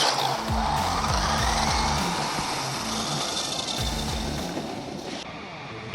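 A Tamiya Big Wig radio-controlled car with rack-and-pinion steering driving, a continuous high-pitched electric motor whine with gritty tire and surface noise, steady and fairly close.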